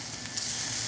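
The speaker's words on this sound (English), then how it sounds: "I love hearing that sizzle." An Angus beef patty sizzles on a flat top grill beside onions, giving a steady, close hiss of frying fat with no speech over it.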